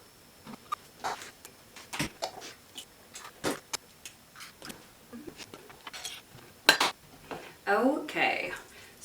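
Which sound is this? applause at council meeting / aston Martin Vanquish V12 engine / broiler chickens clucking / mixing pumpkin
mixing pumpkin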